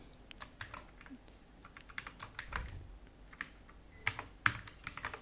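Code being typed on a computer keyboard, a steady run of quick, crisp key clicks with short pauses and a few louder taps, close and alone with no talking.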